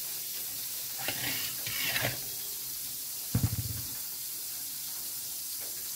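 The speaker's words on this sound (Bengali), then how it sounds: "তো চলো মাশরুমটা আমি বাটারে ভেজে নিই" Mushrooms cook in melted butter in a pan with a faint, steady sizzle. Brief stirring and scraping bursts come near the start and again midway, with no talking.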